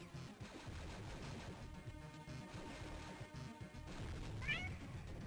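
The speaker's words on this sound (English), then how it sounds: "Oh yeah, my cat is currently trying to jump on me." A house cat meows briefly near the end, a short rising call that is faint and partly masked by steady background noise and indoor clatter.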